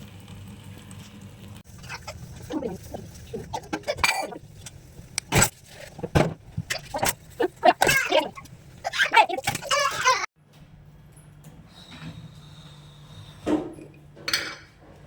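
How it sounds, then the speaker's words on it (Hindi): Dishes, pots and utensils clatter and clink in a home kitchen while rajma cooks for lunch, sharp irregular knocks close by, with someone talking over parts of it and a quieter stretch near the end. "अब मैं थोड़े बहुत बर्तन वॉश कर लेती हूँ"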